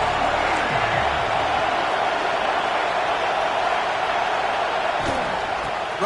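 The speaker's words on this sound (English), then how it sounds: "This crowd ready to make its presence known." A packed stadium crowd at an LSU versus South Carolina college football game roars in a loud, continuous wash of cheering and noise that fills the whole stretch, with a few thuds and shouts rising out of it.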